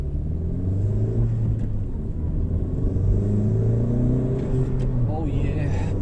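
A 10th gen Honda Civic with new shifter cable bushings pulls away, its engine rumbling low and steady and rising gently as it accelerates from close inside the cabin, with a voice briefly speaking over it.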